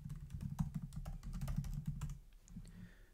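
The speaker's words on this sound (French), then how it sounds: "Je vais taper ici Google Search Console." Rapid typing on a computer keyboard, a quick run of close, crisp key clicks that slows and thins out toward the end, quiet and alone.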